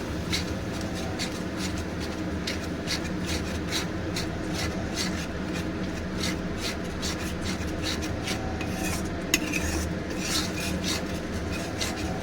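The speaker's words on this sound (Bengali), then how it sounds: "মশলাটাকেও মশলার সঙ্গে ভালো করে নেড়ে নেড়ে কষিয়ে নেব" Spice paste being stirred and fried in a pan for an aloo soyabean curry, a steady scraping rasp of the spoon with faint sizzle underneath, continuous and close throughout.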